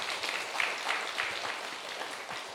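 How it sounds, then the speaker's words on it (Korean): A church congregation at a Friday worship service claps in thanks, a modest, fairly quiet round of applause that runs evenly throughout without talk. "우리 감사의 박수 한번 합시다."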